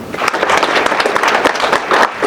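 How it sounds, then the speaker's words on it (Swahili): Applause at a ministerial visit to a defence headquarters, a dense, steady burst of many hands clapping close by, filling the whole moment without a break. "tujipigie tu makofi"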